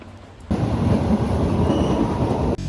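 Train ride in Boston, with a steady loud rumble of the carriage rolling along the tracks that starts abruptly after a quieter moment and holds to the end.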